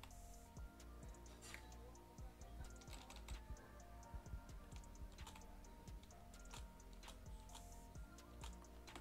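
Rapid keyboard typing clatters steadily throughout, dense irregular clicks close to the mic during a Roblox Flee The Facility hacking session, over a faint game background hum.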